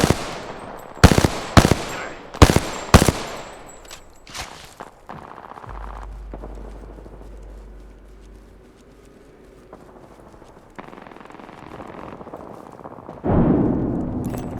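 Enemy gunfire in the game Apex Legends, a series of sharp close shots in the first few seconds, then quieter scattered pops and footsteps, with a louder burst near the end.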